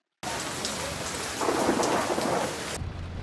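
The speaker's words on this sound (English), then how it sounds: "That's some rain." Steady heavy rain hisses throughout while a low rumble of thunder swells in the middle, fairly loud and close.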